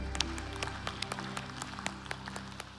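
A short burst of scattered clapping from a church congregation during a worship service, uneven and moderately loud, with individual claps standing out.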